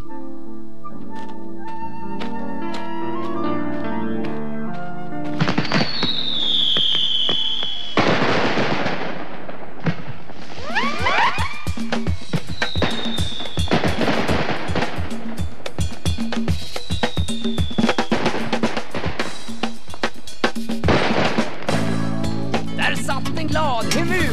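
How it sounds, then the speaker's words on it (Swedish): A large fireworks display bursts in a run of sharp cracks, pops and rising whistles over background music, with a voice speaking at moments. "tände på ett stort fyrverkeri"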